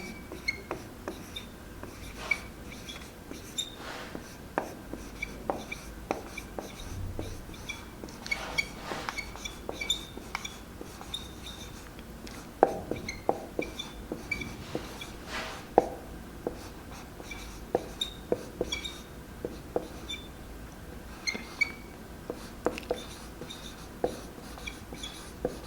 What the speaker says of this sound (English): I just scribbled it fast so that you can see how it would be